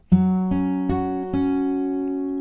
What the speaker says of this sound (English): So our generic finger picking pattern that we can use for any chord is really nice and easy.